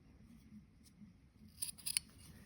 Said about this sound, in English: I'm just going to cut it and hope for the best, because I have secured the stitches on either side